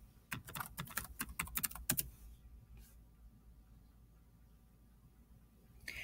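Quick burst of about a dozen sharp key clicks as a password is typed on a Chromebook keyboard, close and crisp, followed by near silence and one soft click at the end.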